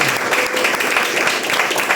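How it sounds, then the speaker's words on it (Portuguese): Church congregation applauding during a worship service, a thick, continuous wash of many hands clapping together, loud and close throughout the short burst. "Vamos aplaudir Jesus, queridos."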